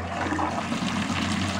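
Water poured out of a container beside a child's inflatable baby pool, a steady splashing gush lasting the whole moment, close and fairly loud, with no talk over it.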